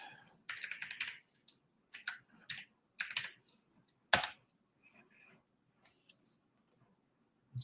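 Password typed on a computer keyboard in bursts of quick key clicks, a few louder single taps, with short pauses between runs and a quiet room background.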